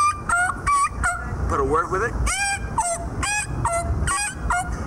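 Eastern wild turkey calls imitated by a person on a mouth call: a close, loud run of sharp, rhythmic yelping notes in quick bursts, with a brief spoken phrase mixed in.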